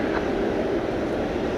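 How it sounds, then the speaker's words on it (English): Steady, loud engine roar of an airplane landing or taking off at DFW Airport at night, a broad continuous rumble holding level throughout without any talk. "I'll try to identify these two flights landing and taking off in a second here."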